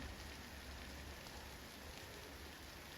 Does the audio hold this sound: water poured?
no